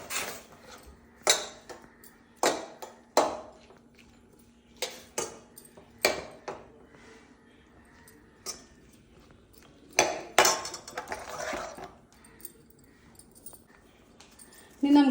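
Udupi rasam being stirred in a pot, a series of sharp metallic clinks and scrapes of a spoon against the vessel at irregular intervals, close and fairly crisp, with quiet gaps between strokes.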